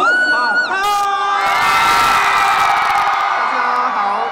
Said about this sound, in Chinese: 热情的尖叫欢迎九把刀